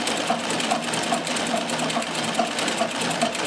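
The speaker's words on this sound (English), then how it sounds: "I'm now sewing it on stitch width of 2." A Riccar 570 sewing machine stitches stretch fabric at a narrow stitch width, its steady rapid needle chatter and motor hum running continuously and close, with no talking.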